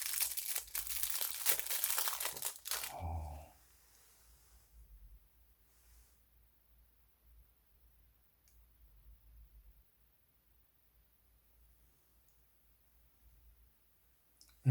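Plastic wrapping around a Zippo 49450 Eagle Shield Emblem lighter crinkles loudly for about three seconds during unboxing, then gives way to near silence with a few faint clicks.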